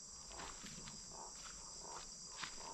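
Insects and frogs in the Guyana jungle make a soft night chorus, led by a steady high cricket-like drone, with faint scattered chirps and calls underneath.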